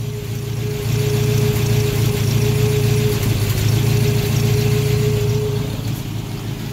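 A 1951 Pontiac Chieftain's steady, droning engine idle with a low rumbling exhaust note through a holed exhaust, continuous and fairly loud throughout, with no speech.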